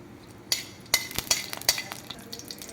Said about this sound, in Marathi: तूप गरम होत आलं की आपण त्याच्यात या लवंगा, एका तेजपानचे मी तुकडे केले